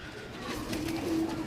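A sturdy black-faced pigeon at a pigeon sale in Pakistan gives a short, close, low cooing call.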